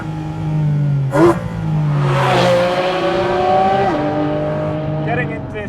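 Porsche GT4 RS engine on a winding mountain road, revving up high with a rising wail, easing off, then climbing again, loud and close while someone talks over it.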